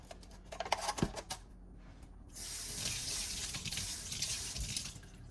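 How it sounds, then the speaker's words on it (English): Running kitchen tap water rinsing handfuls of small tomatoes, a steady close hiss of water that sets in after a few brief clattering handling sounds. "next I'm gonna take a couple handfuls of small little tomatoes that I'm washing as I go"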